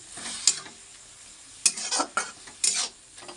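Greens being stir-fried in a pan give a soft sizzle broken by three sharp bursts of spatula scraping and stirring, close and fairly loud, with no speech.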